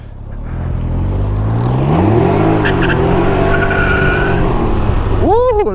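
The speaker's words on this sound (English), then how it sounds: "a little burnout for you guys" Can-Am Ryker three-wheeled motorcycle doing a burnout: a loud, close engine roar revving up with rising pitch sweeps, rubbery tire squeal through the middle and a sharp rev at the end, with a voice briefly over it.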